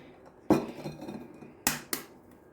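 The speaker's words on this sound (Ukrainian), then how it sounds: "Тепер мені треба цукор змішати з яйцями. 4 яйця. Зараз я їх" Eggs cracked and dropped into a bowl with sugar while preparing a Christmas stollen, a sharp knock followed by a soft splash and later two quick crisp clinks of shell against the bowl's rim, close and fairly quiet.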